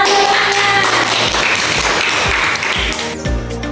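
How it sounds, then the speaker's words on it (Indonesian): Children clap their hands together in a classroom, a loud, busy patter of overlapping claps mixed with tapping and some voices, sustained throughout. "Bagus, tepuk tangan."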